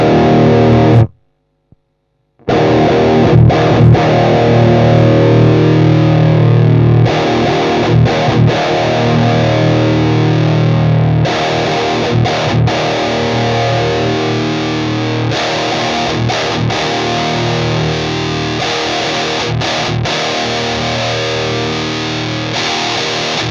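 A heavily distorted electric guitar plays loud, crunchy chords and riffs through a Cuvave Cube Baby multi-effects unit on a Rectifier-style amp setting, with a brief silent pause near the start.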